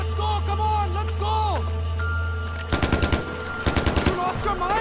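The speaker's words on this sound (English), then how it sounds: "Gunshot! But from where?" Rapid bursts of automatic gunfire from a PS4 shooter game crack out in the second half, loud and close, following a stretch of game dialogue and music; voices talk over the first part.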